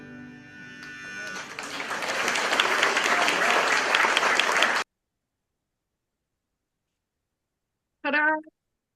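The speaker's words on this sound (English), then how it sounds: "Oh, I see some clapping going on." An audience claps and cheers after a song in a downtown bar, dense applause building over about four seconds and then cutting off abruptly; a brief meow-like cry follows after silence.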